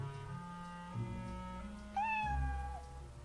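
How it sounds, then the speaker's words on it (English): A cat meows twice in a quiet setting, a short call near one second and then a longer, clearer drawn-out meow, both close and moderately loud over a low background hum. "Come on, Kitty. Let's go in the house"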